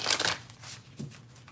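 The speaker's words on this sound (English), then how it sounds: "Let me shuffle them and I'm going to pick out because these cards are huge." Large tarot cards are riffled and shuffled by hand, a quick burst of papery flutter at the start, then softer slides and taps close by, with no talk.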